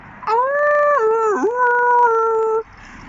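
A single voice imitates a whale call during a children's church song about animals: a sustained, wavering sung tone that slides down, dips low and recovers, lasting about two seconds, loud and close with no other sound around it.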